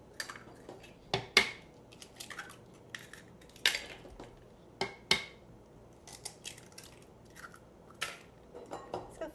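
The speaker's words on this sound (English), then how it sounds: "I love the sounds of eggs cracking and plopping into a bunch of cream." Eggs cracked one after another into a bowl of cream for a bacon, leek and cheese quiche custard, giving sharp clicks and taps with small wet plops between them. The cracks come in scattered bursts, close and fairly quiet, with no talk.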